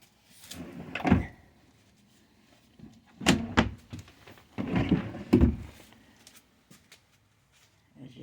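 Drawers in a 2022 Cardinal RV sliding open and shut, with several soft thuds and rattles spread over a few seconds and quiet gaps between, close by in a small interior.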